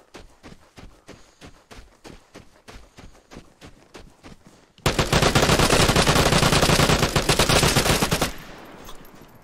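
Gunfire in the video game Vigor: a run of evenly spaced single shots gives way to a loud, dense sustained burst of automatic fire that cuts off abruptly, close and with no talking.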